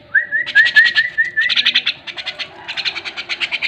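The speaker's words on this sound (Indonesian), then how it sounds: "Ini si jalak kebo ini kita kasih nama Upin dan Ipin." A Javan myna, also called jalak kebo, gives a rising whistled note and then a fast run of harsh, rhythmic chattering calls, loud and close, with no talk.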